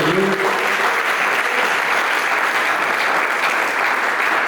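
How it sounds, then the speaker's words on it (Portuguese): Congregation applause at a church service: steady, dense clapping from many people that fills the whole stretch at a fairly loud, even level, with no speech over it. "Uma salva de palmas em nome de Jesus."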